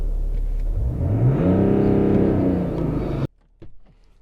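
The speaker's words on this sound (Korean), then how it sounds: "직렬 6기통이 들어가 있기 때문에 디젤 엔진이지만 이런 회전 질감이 좀 부드러운 느낌이 있습니다" A BMW X5 30d (G05) inline-six diesel engine revs up smoothly, rising and falling in pitch with a steady rumble, then cuts off abruptly near the end, leaving faint clicks.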